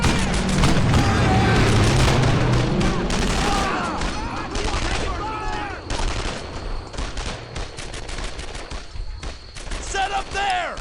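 Rifle and machine-gun fire crackle in a World War II battle in Brothers in Arms: Earned in Blood. Heavy bursts come first, then thinner volleys with scattered booms, while soldiers shout over the shooting.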